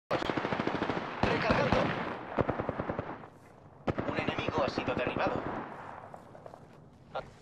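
Automatic weapon fire in the Apex Legends video game, rapid bursts of shots in two long volleys with a brief pause between, loud and close, with game voice lines mixed in.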